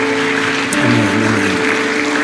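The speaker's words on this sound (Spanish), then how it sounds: "Denle el aplauso al Señor." A church congregation claps together after a prayer, a steady dense patter of hands filling the room.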